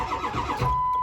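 A Ford 7.3 Powerstroke diesel cranks on a cold start near freezing, with a brief rhythmic starter churn that cuts off into a steady electronic tone.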